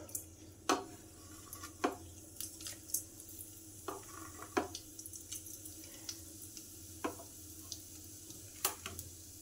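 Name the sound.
whole spices tempering in hot oil in a wok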